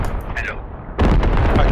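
Artillery fire in the video game Squad: a near booming blast lands partway through, followed by a sustained rumbling roar, with a brief crack of another shot earlier and a voice talking faintly at the start.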